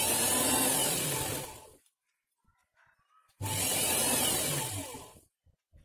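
A sewing machine double-stitches a blouse seam joining sleeve to body piece, running in two loud, steady bursts of close whirring stitching separated by a near-silent pause with faint handling clicks; no talking.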